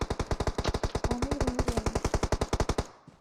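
Rapid automatic gunfire from PUBG Mobile, a sustained burst of roughly thirty evenly spaced close, loud shots that stops abruptly near the end, with a brief tonal game sound mixed in midway.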